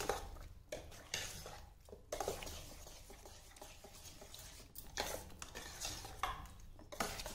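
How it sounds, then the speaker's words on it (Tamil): A spoon gently stirs and mixes semiya vermicelli with milk and curd in a dish for bagala baat, giving soft, quiet scraping and clinking strokes in a loose repeating rhythm, close by with no talk. "இப்போ ஜென்டலாக மிக்ஸ் பண்ணுறதுக்கு நாம் இந்த கரண்டி எடுத்துக்கலாம்."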